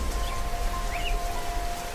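Steady rain falls during a storm, a dense, even hiss of drops that is fairly loud and continuous.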